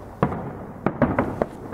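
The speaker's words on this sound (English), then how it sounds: "we were greeted by the flash and bangs of fireworks" Fireworks going off at night near Poole harbour: five sharp separate bangs at irregular intervals, the first loud and the rest following in a quick ragged run, moderately distant, with no talking.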